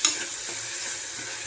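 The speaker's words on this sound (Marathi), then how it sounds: "सगळा मसाला भाजून घ्यायचा" Masala frying in oil and a little water in a pan while being stirred, for a ridge gourd curry: steady close sizzle with scraping stir strokes throughout, no talk.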